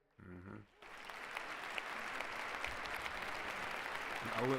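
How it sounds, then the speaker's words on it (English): A steady wash of applause from a large crowd at a presidential inauguration fills the space, rising slightly toward the end, after a brief moment of voice at the start. "Now look at both of them clapping."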